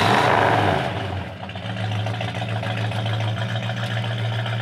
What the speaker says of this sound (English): Dual exhaust sounds great.